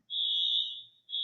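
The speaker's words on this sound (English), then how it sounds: "I think I hear a smoke alarm" A distant smoke alarm beeps in the background, one long shrill tone that fades out and then starts again, with no one speaking.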